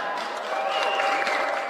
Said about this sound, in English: And that's something to clap about.